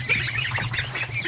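A duck in a barn with its ducklings gives a short run of raspy honking calls, close and moderately loud, over a low hum.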